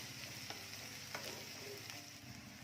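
Onion and dal fry in a pan with a faint, steady sizzle and a few soft stirring knocks, quiet and close, with no one speaking.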